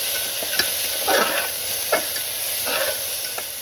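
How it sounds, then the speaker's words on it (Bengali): Coriander, cumin and chilli powder fry in a pan with a constant hissing sizzle, broken by a few distinct stirring scrapes, close and alone without speech. "ধনে গুঁড়ো, একটু জিরে গুঁড়ো, আর অল্প একটু লঙ্কা গুঁড়ো দিয়ে দিচ্ছি। এবার ভালোভাবে কষিয়ে দিচ্ছি।"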